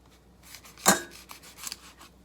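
A knife roughly chopping parsley and tarragon on a board, with one sharp crisp cut followed by a few lighter, quicker cuts and rustling herbs, heard close with no talk.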